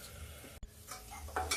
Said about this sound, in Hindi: अब हम इस मसाले को थोड़ी देर भूनेंगे। देखिए दोस्तों, इसमें मैंने डाल दिया धनिया के डंठल।